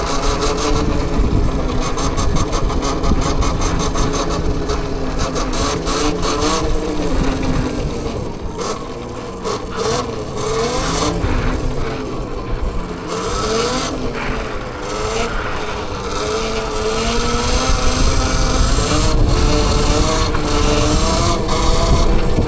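An Anyland Rev Pro bike runs continuously during wheelies, a loud motor whine that rises and falls with throttle changes over steady mechanical noise, without talk.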